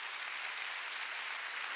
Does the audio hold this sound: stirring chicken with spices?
no